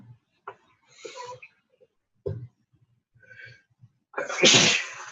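A sneeze bursting out loud and close at the end, preceded by scattered quiet rubbing and scraping sounds with brief pauses.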